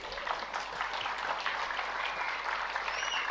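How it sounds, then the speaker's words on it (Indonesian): An audience at an Islamic religious debate applauds for Buya Rosi, a steady, faint wash of many hands clapping at a distance that runs unbroken for a few seconds. "silakan kasih aplaus untuk Buya Rosi"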